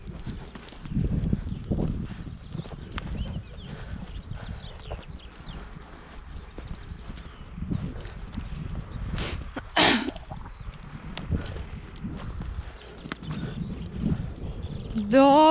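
Hooves of a horse being lunged in a bridle thud irregularly on the ground nearby, with a trainer talking over them and a brief snort or sneeze partway through.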